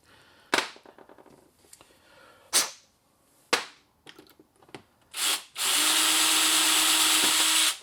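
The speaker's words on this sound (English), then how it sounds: "I have to drill that little hole right there" A few sharp clicks and taps, then a power drill whirs steadily for a couple of seconds, close and loud, drilling a small rivet hole in a Holley 750 CFM 4160 carburetor.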